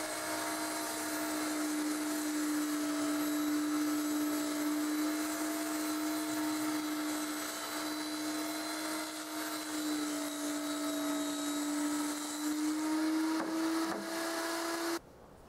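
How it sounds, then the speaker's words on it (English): A power saw rips 1/4-inch plywood for a mortising jig base, a loud steady whine running continuously for about fifteen seconds with a constant pitch, close up, no voices, cutting off sharply at the end. "I start out with just ripping some 1/4-inch plywood for the base."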